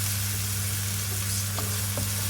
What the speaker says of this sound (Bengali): ওই যে কর্জেটটা ভাজি করবো একটু আলু দিয়ে ওই একই কড়াইতেই বসাচ্ছি